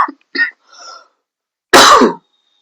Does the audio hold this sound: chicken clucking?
no